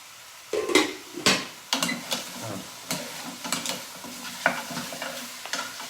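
Meat frying and sticking in a pan while being stirred for peanut soup, a low sizzle under repeated scraping and knocking of a spoon against the pan, close and moderately loud, no talking.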